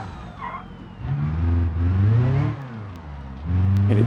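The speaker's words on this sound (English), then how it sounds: "Hitting the brakes there really brings that rear end out." A car in the BeamNG driving game brakes hard and skids as the rear end slides out, engine droning and revving loudly up close while tires scrub, with no talking.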